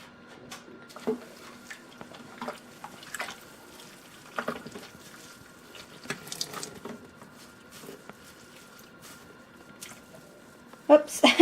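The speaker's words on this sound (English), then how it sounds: "I'm just going to gently squeeze some of the water out" Soaked fabric pieces squeezed by hand, giving soft wet squishes and drips in irregular bursts close by, with a louder splashy cluster at the end while a person talks over it.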